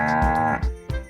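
Cows moo in a barn, one deep, tonal bellow with a short follow-up low grunt, close and loud with no talk.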